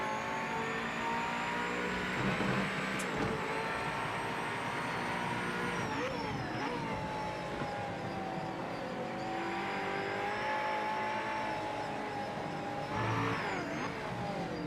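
Race car engine in Project Motor Racing on PS5, a steady droning roar that rises and falls with revs across the lap, heard alone and fairly quiet after contact damage.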